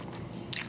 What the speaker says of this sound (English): The crunch of the outside and the sugar.